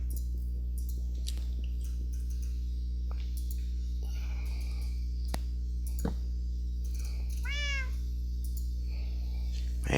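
A cat in the Strive to Survive game gives a single short meow midway through, over a steady low hum with scattered clicks and taps.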